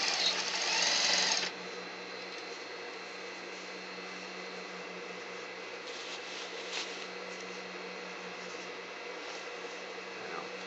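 A sewing machine stitching the shoulder seam of a tailored jacket, with a louder burst of running at the start, then a steady close mechanical hum for the rest.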